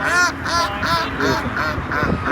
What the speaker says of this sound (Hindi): दो बतखों की आपस में लड़ाई शुरू हो गई।